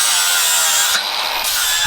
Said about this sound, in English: This little shield is too long, so we're gonna drill and tap it back here.